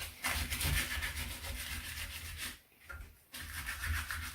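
Hand sanding of rough areas on a wooden surface before a top coat, steady repeated back-and-forth rasping strokes, close and loud, with a brief pause near the end before the rubbing resumes.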